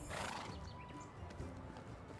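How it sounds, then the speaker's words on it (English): Donkeys in the video game Medieval Dynasty give a short whinnying call mixed with clopping hooves, moderately close over a quiet outdoor background. "Apparently they have donkeys"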